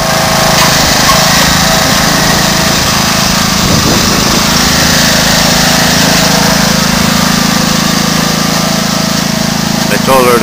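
A riding lawn mower's engine runs continuously, a loud, steady drone that fills the whole stretch, with a voice speaking over it.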